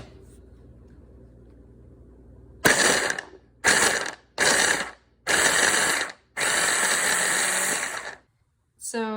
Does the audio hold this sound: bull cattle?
no